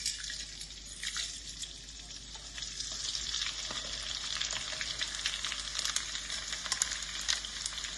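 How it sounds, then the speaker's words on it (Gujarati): Continuous crackling sizzle of edible gum frying in hot ghee, fairly quiet, with light bubbling and occasional small pops. "ઘી ગરમ થઈ ગયું છે, એની અંદર આપણે આ ગુંદને પેલા તળી લઈશું।"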